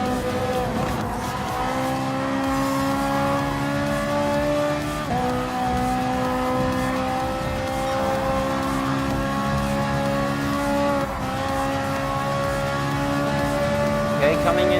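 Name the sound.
Ferrari 458 Italia GT3 race car engine, video game Gran Turismo Sport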